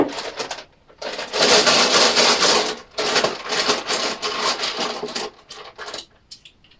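Dice rattle and tumble across a hard surface in several bursts, clattering loudly up close with short gaps between the rolls.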